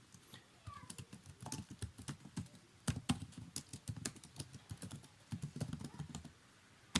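Fingers type on a computer keyboard while entering Java code, a quick, uneven run of soft close key clicks with brief pauses, faint and continuous, with no voice over it.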